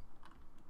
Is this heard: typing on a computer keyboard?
yes